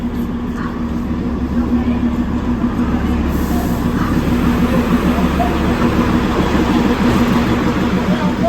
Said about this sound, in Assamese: দাৰ্জিলিঙৰ বিখ্যাত ট্ৰেইনখন আহি গ'ল